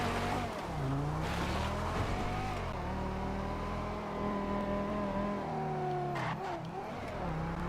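A Banshee 900R supercar engine in GTA 5 Online revs and shifts through the gears, with rising and falling tones, tire noise and speech underneath, steady and close throughout.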